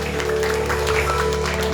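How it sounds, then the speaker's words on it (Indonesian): A church congregation at a worship service claps for Jesus, a dense, steady burst of applause that fills the whole short moment. "Tepuk tangan buat Tuhan Yesus"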